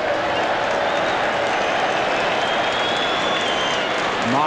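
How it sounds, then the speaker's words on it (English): A baseball crowd at a Mets–Expos game in 1987 gives loud, sustained mock cheers and applause after a called strike, a dense roar of clapping and voices filling the stadium. "Mock cheers here in the big hole."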